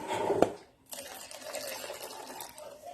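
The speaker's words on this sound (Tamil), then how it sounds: "இப்போ நம்ம கொஞ்சம் கூட தண்ணி ஊற்றிடலாம்" Water pours into a blended tender coconut mixture, a faint splashing trickle following a short clink, running softly and unevenly for a couple of seconds.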